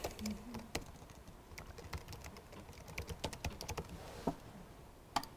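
Typing on a computer keyboard, with irregular bursts of clicking keystrokes close up and no talking.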